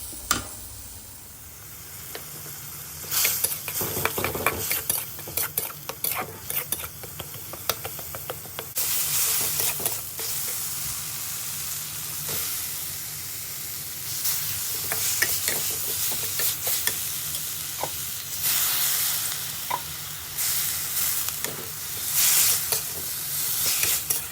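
A spatula scrapes and stirs egg through a dish in a frying pan over a steady loud sizzle, with repeated clacks of stirring and bursts of hissing steam throughout.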